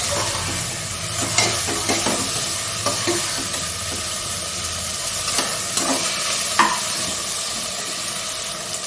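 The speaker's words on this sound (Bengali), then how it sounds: "টমেটো কুচি, পেঁয়াজ কুচো, টমেটো কুচো আর চর্বি কুচি, এই দুটো তিনটে ভালো করে আমি মিক্স করে আরেকটু ভাজবো।" Chopped onion, tomato and mutton fat stir-fry in a pan with a steady, close sizzle, broken by frequent clicks and scrapes of a spatula stirring through the mix.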